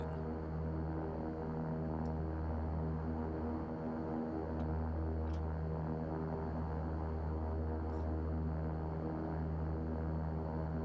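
Steady propeller aircraft engine hum with harmonic drone while taxiing in the X-Plane 11 flight simulator, continuous and fairly loud throughout with faint clicks, no talk.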